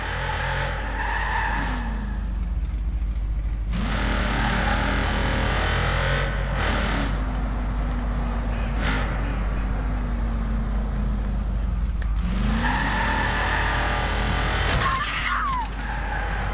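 A car in Watch Dogs 2 driving hard with a steady engine drone and repeated long tire squeals and skids through turns, loud and close, with someone speaking briefly over it.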